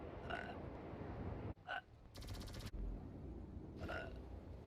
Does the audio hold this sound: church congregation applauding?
no